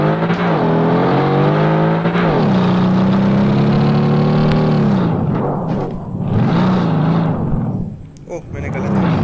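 A car engine in the online racing game Drive Zone Online drones loudly and steadily, its pitch rising and falling as it revs, with a voice talking over it throughout.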